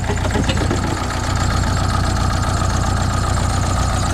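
A car engine with a small fuel leak at the back idles steadily and loudly, a continuous low rumble with a faint rhythmic knock running through it, no voices.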